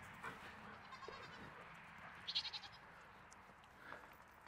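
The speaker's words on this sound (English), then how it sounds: "Go feed the goats." Goats bleat faintly at a farm during evening chores, a few distant calls spread out, with one clearer wavering bleat in the middle over quiet background.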